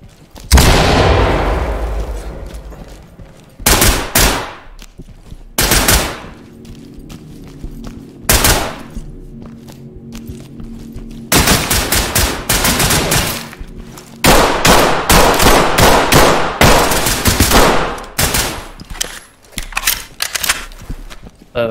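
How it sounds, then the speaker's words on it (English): Gunfire while shooting through a wall in the video game Ready or Not: loud bursts of rapid automatic fire and single heavy shots, separated by short pauses, up close and dominating. "Okay, so I shot him through the wall"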